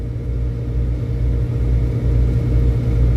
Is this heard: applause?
no